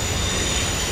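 A train rolls along tracks right beside a home, a steady loud broadband rumble with low wheel-on-rail drone and a faint high whine running throughout.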